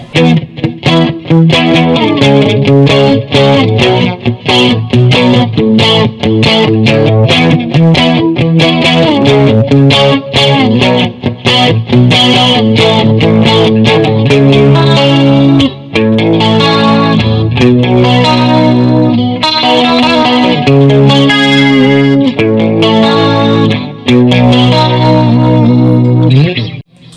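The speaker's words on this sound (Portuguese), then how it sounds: "Então esse é o som do chorus." Electric guitar plays continuous picked chords and melody lines, shimmering and swirling from a chorus effect, loud and up close without pause.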